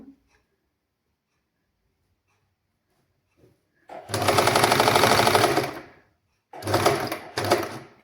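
A sewing machine stitches fabric in a basic tailoring lesson, running in one steady burst of about two seconds, then two shorter bursts after a pause, loud and close, with quiet handling sounds before it starts.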